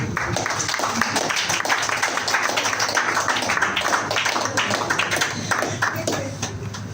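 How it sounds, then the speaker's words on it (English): An audience claps steadily and densely for the MD at a cake-cutting during a company training event, a continuous loud patter with no pauses. "Please let's clap for MD once again."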